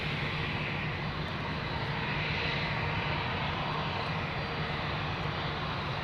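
Steady broadband jet roar from a Ryanair jet airliner departing Amsterdam Schiphol Airport, a constant, moderately distant engine rumble with no talk.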